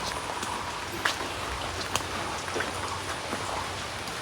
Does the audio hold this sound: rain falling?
yes